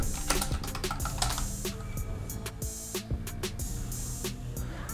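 Rapid typing on a computer keyboard, with dense, close clicking keystrokes going on steadily and with no talk over them.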